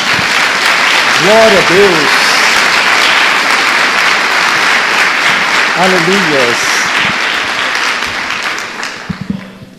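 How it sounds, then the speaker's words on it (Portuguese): Church congregation applauding loudly and steadily throughout, with voices calling out praise over the clapping before it tapers off at the end. "Dê uma salva de palmas a Jesus."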